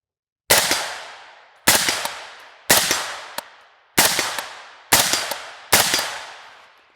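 A rifle fitted with a Silencer Co Saker 762 suppressor fires six sharp, loud shots at fairly even intervals, each with a short decaying tail, with no talking.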